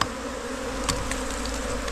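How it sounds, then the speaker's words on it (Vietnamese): Wild forest bees swarm around an exposed honeycomb during a wild honey harvest, their steady dense buzzing close and continuous throughout, with a couple of faint knocks partway through. "Đấy, có ong nhiều đấy."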